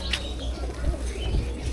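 Pigeons kept at a home loft give low, soft coos in a short burst, mid-distance, with some faint bird chirps above.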